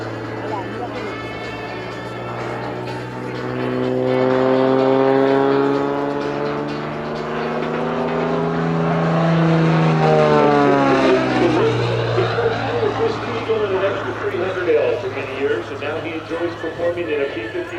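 Beechcraft F33C Bonanza aerobatic airplane with a propeller engine droning steadily, its pitch sweeping up and down as it passes through a maneuver at an airshow, loud and continuous beneath an announcer's voice.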